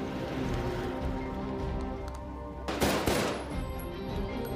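Gunfire at a shooting range in a film: a dense burst of sharp shots near the middle over a continuous rumbling background, close and fairly loud, with no talk.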